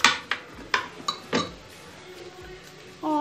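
A metal spoon clinks and scrapes in a kadhai while saag is tempered with garlic, green chillies and onion, giving several sharp separate knocks spread over a few seconds.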